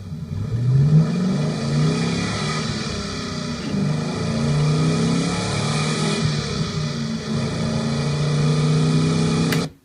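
Mustang pinball engine and exhaust sound effects layered together, a continuous revving car engine with rising pitch sweeps and a mechanical whir, loud and steady until an abrupt cutoff.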